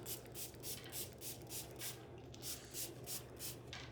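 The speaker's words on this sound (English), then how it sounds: "I'm gonna go ahead and spray." A spray bottle mists water over mushrooms being grown at home in quick, evenly spaced bursts, about a dozen short hissing puffs in a steady rhythm, close and fairly quiet.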